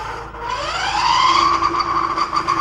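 A motorcycle-type engine revs up as the throttle is twisted, pitch rising smoothly over about a second and then holding at a steady, loud drone close by.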